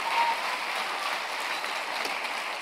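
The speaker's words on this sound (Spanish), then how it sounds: "Dele otro aplauso, ya vamos a orar." Steady clapping from a church congregation during a Sunday service, an even wash of hands that holds level throughout the short stretch.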